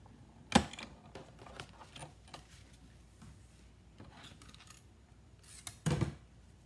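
Scissors trimming a fabric scallop: faint, scattered snips and small handling clicks, with a sharper cut at the start and another near the end, heard close in a quiet room.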